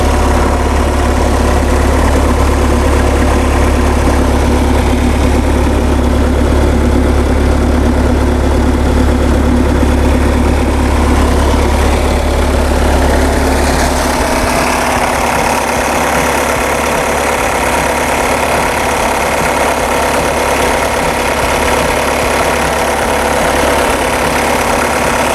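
A Bobcat 773 skid steer engine idles steadily and loudly, with a deep low throb that shifts in tone partway through as the running continues without any voices.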